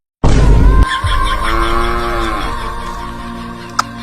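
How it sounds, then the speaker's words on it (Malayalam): A cow gives one loud, drawn-out moo that starts abruptly and slowly falls in pitch, close by, with no talking over it. "ഞാൻ പശുവിനെ ഇങ്ങോട്ട് കൂട്ടും"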